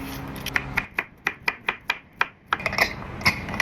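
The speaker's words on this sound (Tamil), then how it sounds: "ஒரு ஃப்ரெஷ்ஷான குக்கும்பர் எடுத்து ஸ்லைசஸாக கட் பண்ணி ரெடி பண்ணி வச்சுக்கிறேன்" A knife slices through a peeled fresh cucumber on a cutting board, a steady run of crisp, close taps in an even rhythm, quiet and alone with no voices.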